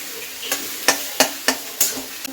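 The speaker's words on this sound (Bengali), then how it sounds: "গ্যাসটাকে আমি বাড়িয়ে দিলাম। পেঁয়াজটা একটু ভাজা হতে থাক।" Onions fry on a raised gas flame while a spoon scrapes through the pan in about six sharp, evenly spaced strokes over a steady sizzle, close up with no voices.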